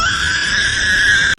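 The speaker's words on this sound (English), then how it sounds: "5. Screaming piha, jungle's loudest banshee" Screaming piha bird giving a loud, piercing whistled call, a sustained shrill cry with a rising ring held for over a second before cutting off abruptly, close and alone.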